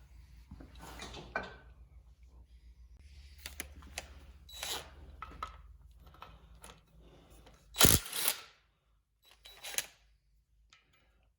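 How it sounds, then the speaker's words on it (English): A nut is being removed from a Johnson 9.9 outboard motor. Close-up, it gives a string of quiet metallic ratcheting clicks and tool scrapes in irregular bursts, with one sharper clank near the middle and then trailing quieter clicks. "Now we got to remove the nut."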